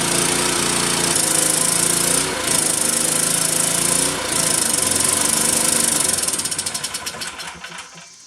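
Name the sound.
Suzuki SV2200L generator engine running and surging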